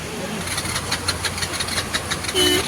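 A car that sat in floodwater on a flooded city street is being started, with water pushing from its exhaust; a steady low engine rumble runs throughout, with rapid ticking on top and a short louder surge near the end.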